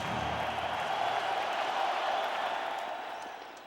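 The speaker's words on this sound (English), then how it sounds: "Everybody stood cheering." A hockey arena crowd stands and cheers at Game 1 of the 2009 Western Conference Quarterfinals, Calgary Flames at Chicago Blackhawks: a dense, steady roar with applause mixed in that fades slightly at the end.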